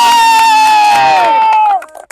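A crowd of students at a school picnic cheers together in one long, loud, sustained shout that drops in pitch and cuts off, followed by a few scattered claps.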